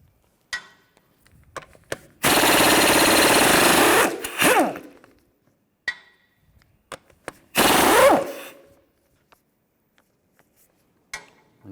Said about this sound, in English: Use a 17mm socket, take these lug bolts out.